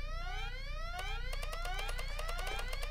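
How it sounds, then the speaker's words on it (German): Electronic alarm from the video game Deponia wails continuously with rising sweeping tones, joined partway through by rapid repeating pulsed beeps, loud and steady throughout with no voices. "So wurde schon wieder dieser jämmerliche Alarm ausgelöst."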